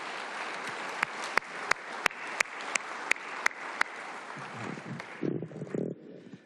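A city council chamber audience applauds a staff member after his singing, with a string of sharp, evenly spaced claps standing out close by over the general clapping, which thins out after about four seconds into scattered faint sounds.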